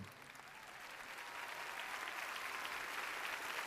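Audience applause for Ray Charles at a tribute evening, a steady wash of many hands clapping that swells slightly and holds, fairly distant and moderately loud, with no talking.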